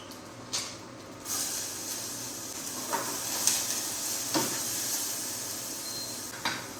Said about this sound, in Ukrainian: додаємо в наш сотейник крапельку олії і обсмажуємо нашу цибульку